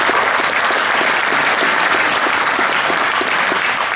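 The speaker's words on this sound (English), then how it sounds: "they deserve a round of applause" A museum audience at an F-104 Vietnam-era program applauds steadily, a dense wash of clapping from many hands sustained throughout at even loudness with no talk.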